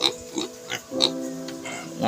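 Native pigs grunt and oink in short bursts, several calls scattered over a couple of seconds with some tonal squeals, fairly close and over a low background.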